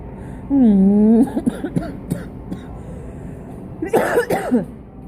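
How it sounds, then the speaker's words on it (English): A drawn-out voiced groan, then a short cluster of harsh, close coughs with some muttering between them. "now I have this fucking cough"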